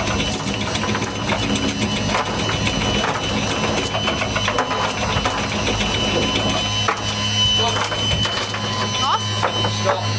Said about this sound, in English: Just need to tighten the Gypsy a little bit.